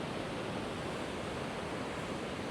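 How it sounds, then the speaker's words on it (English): Strong ocean waves surge up a beach at Da Nang, a dense, steady hiss and roar of churning water that is fairly faint and continuous with no distinct breaks. "How strong, how ferocious this ocean is."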